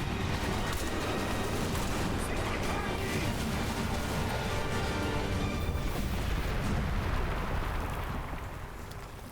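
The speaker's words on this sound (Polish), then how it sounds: "A teraz bardzo efektowny wybuch." A long, rumbling explosion in the video game Crysis 3 roars continuously, dense and booming, gradually fading near the end.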